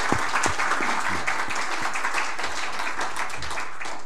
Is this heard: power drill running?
no